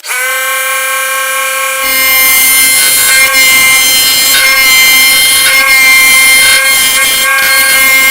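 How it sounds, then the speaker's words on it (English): A wood lathe spins up for a pizza cutter handle project, then a roughing gouge bites into the rounding blank with a loud, sustained harmonic whine and gritty scraping, close and continuous. "starting out on the lathe here to get this rounded, I think I'm going to start out with a roughing gouge here"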